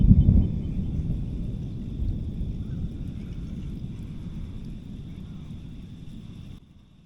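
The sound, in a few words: thunder echoing across a lake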